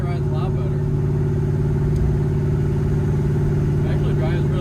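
A 1965 Corvette barn find on new tires drives along, its engine a steady mid-pitched drone heard from inside the car, with faint voices over it.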